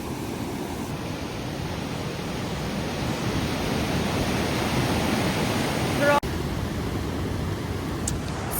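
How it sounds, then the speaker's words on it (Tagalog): Big ocean waves crash and surge in a continuous broadband roar, loud and close, with a short knock partway through and no talk. "Ang lalaki ng alon!"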